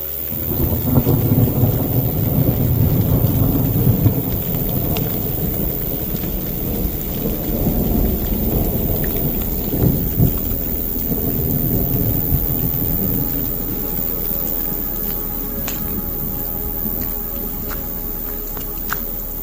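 A thunderstorm nearing its end rolls on with steady heavy rain pattering on surfaces and deep, low thunder rumbling through the first half, fading to softer rain with occasional drips.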